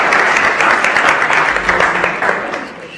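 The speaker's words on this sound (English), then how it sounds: "Big applause for Evelien, for Aya and Filemon." Audience applause at an innovation café event in Eindhoven, a dense, steady wash of many hands clapping that holds loud throughout and eases slightly toward the end.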